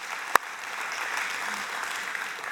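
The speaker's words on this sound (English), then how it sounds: "Let's give a round of applause for all of our college students here with us today." A congregation applauds college students at a church gathering, a steady wash of many hands clapping throughout, with one sharp louder clap near the start.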